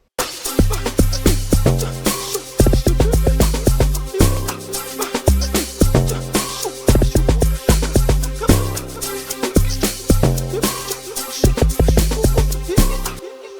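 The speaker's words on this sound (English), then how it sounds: "I created my own log drum preset and it sounds like this." A punchy, deep amapiano log drum pattern synthesized in Ableton Live 11's Operator, with bouncy pitched bass hits repeating in a steady groove, loud and dense, with no voices.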